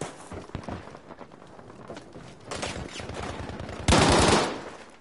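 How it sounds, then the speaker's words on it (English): Gunfire in a video game, bursts of rapid automatic shots with a loud dense volley near the end, close and punchy with no talking over it. "the sound of the gun shooting changes if you go into a building"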